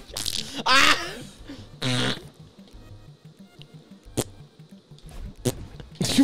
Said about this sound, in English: The fart rhythm.